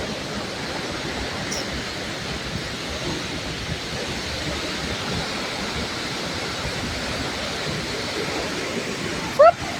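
Waterfall at Tad Yuang in Laos, a steady broadband roar of falling water close by, unbroken for the whole stretch, with a brief louder knock near the end.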